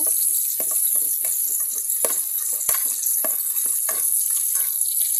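Ingredients for biryani fry in a pan with a steady, bright sizzle throughout, broken by regular soft knocks and scrapes of stirring, close up and with no speech.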